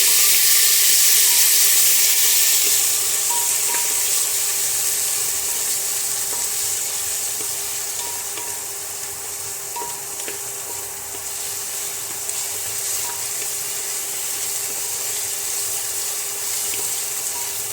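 Chopped onions sizzle in a pan of roasted cumin for aloo paneer, a steady close frying hiss that is loudest at the start and then settles to a constant sizzle with a few light stirring clicks.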